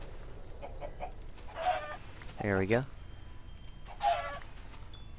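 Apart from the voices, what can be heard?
chicken clucking in Minecraft video game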